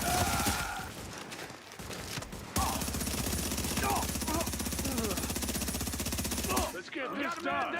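Rapid automatic gunfire from the video game The Division rattles in dense, sustained bursts for several seconds, loud and close, with a voice speaking briefly before it and game sounds around it.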